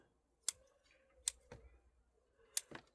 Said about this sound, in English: that's why you don't want to use your best scissors for root pruning